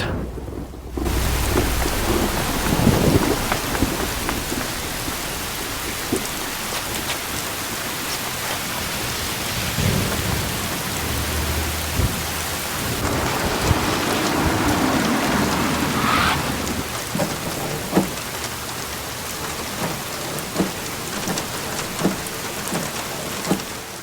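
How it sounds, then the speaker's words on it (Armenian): Heavy rain falls in a continuous roaring downpour in Seoul, with deep rumbles of thunder rolling through at intervals. "Սեուլում եւ նրա շրջակայքում շարունակում է հորդարատ անձրև գալ"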